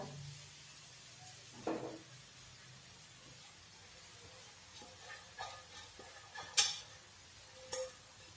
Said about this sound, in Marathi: आता आपण हे छान मिक्स करून देऊया